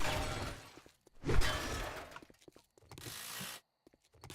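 A wrench being used in the video game 7 Days to Die makes a few short bursts of ratcheting, clanking mechanical sound separated by brief gaps, fairly close and without talk.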